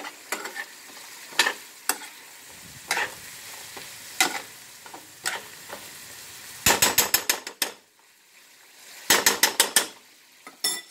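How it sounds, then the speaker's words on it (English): A spoon stirs a vegetable soup mixture seasoned with Italian seasoning in a pot, giving scraping, clattering strokes in irregular bursts, with louder rapid clusters of knocks against the pot in the latter half. "we are going to give our mixture here a little stir"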